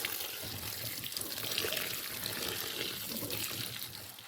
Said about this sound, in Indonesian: kita cuci, kemudian aduk-aduk.